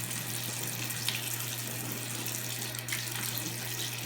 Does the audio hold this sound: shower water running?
yes